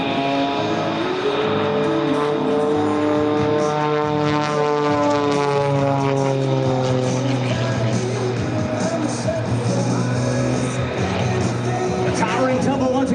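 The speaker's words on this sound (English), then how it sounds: "Aarron takes the aircraft right back up into the sky, still spinning, still rolling as he tumbles across the top" The propeller engine of an Extra 330 aerobatic plane drones and wavers as the aircraft tumbles vertically at an air show, its pitch sweeping up and down steadily, with commentary heard over the engine.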